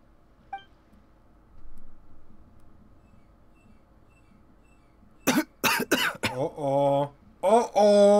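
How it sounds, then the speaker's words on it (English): A Genshin Impact character coughing, a few harsh close coughs in quick succession following a quiet stretch with faint background tones, a short voice line mixed in among them. "We got some coughing."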